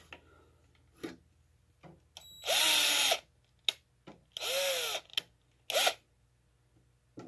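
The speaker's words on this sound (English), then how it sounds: "So let's drill the holes in there." A power drill whirs in short bursts while drilling holes into a taxidermy shoulder-mount foam form: three longer runs with rising and falling pitch and a few brief blips, separated by quiet clicks and handling sounds.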